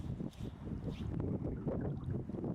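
Steady wind gusts across open ground by a cold river, a continuous low rumble buffeting the microphone with faint watery gurgles underneath and no voices.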